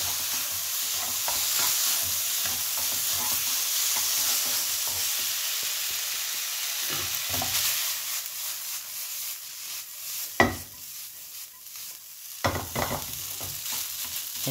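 Garlic fried rice with pork sausage, Japanese style with shoyu, stir-fried in a pan: a steady, loud sizzle with continual scraping and stirring strokes, a few sharper knocks of the spatula near the end, no talking.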